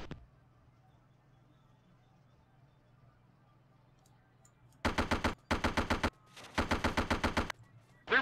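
Gunfire in the video game Arma: Cold War Assault: after a quiet stretch, loud rapid automatic bursts rattle out in three close volleys.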